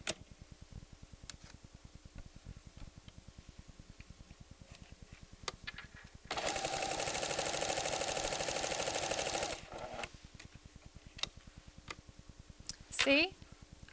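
A 1994 PFAFF creative 7550 sewing machine runs a straight stitch with its Dualfeed engaged, a steady whirring burst of about three seconds between quiet ticking and clicks, heard up close.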